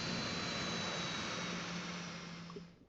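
Airplane flying overhead in The Simpsons: Tapped Out video game, a steady broadband jet-like roar that holds evenly and then thins and fades near the end, with no talk.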